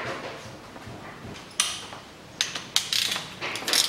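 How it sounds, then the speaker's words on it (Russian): Metal tools rattle and click while a sensor and a ground wire are unscrewed under the hood of a 2012 Nissan Qashqai 1.6 during clutch replacement. The sound is a series of close, sharp clanks and ratcheting scrapes with quiet gaps, no talking. "Откручиваю датчик и откручиваю провод массы."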